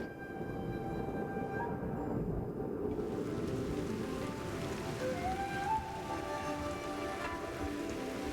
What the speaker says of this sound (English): But this is no spring shower. It's a gully washer.